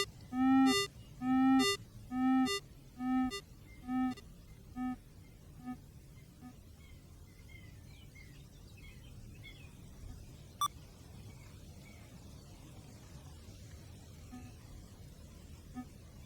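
An XP Deus II metal detector sounds a series of about seven short tonal beeps during ground balancing, each quieter than the last, then fades to a faint low hiss with one brief click partway through.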